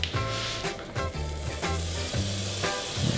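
Bacon sizzles and spits steadily in a hot pan, a dense continuous crackle at close range with occasional stirring, no talking.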